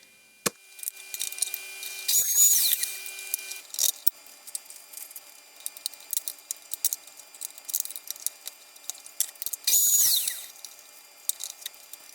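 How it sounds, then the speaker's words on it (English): Two loud bursts of a power saw cutting wooden box bottoms, each a couple of seconds long and well apart, with quieter clatter and handling noise between them. "And now I'm just cutting out some bottoms for each box."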